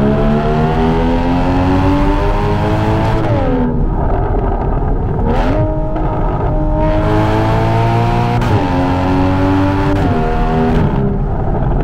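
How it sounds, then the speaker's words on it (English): A 2016 Porsche Cayman's mid-mounted engine revs loudly from inside the cabin on a drive, climbing through gears with repeated rising sweeps, sharp drops at each shift and a brief lull, then pulling hard again. "Oh, and did I mention that the engine is right next to our face? This is a mid-engine car"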